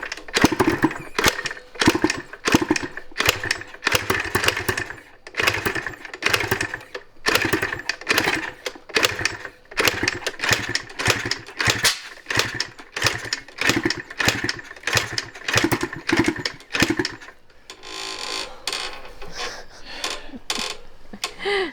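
A motorcycle engine is repeatedly kick-started without catching after its spark plug was cleaned, giving a long run of sharp, close mechanical bursts that end in a brief rougher rumble, with no talking.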